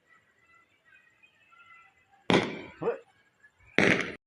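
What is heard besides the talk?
firecrackers bursting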